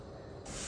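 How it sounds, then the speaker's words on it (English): A spray bottle filled with plain water gives one short, sharp hissing spritz that starts abruptly and stays close and fairly quiet. "So I have a spray bottle filled with water, nothing else."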